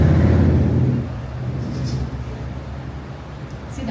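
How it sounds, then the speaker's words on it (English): A car or bike with a loud exhaust rumbles deep and heavy, strongest in the first second, then settles into a steady low drone. "see, that's why I don't like loud exhaust"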